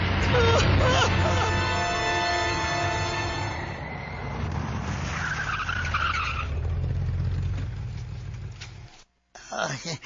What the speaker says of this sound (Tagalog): May sakyan yan. Mihunong tunod sa ato bayong.